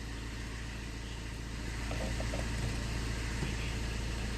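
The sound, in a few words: Fiat 1.3 Multijet car engine idling after a late start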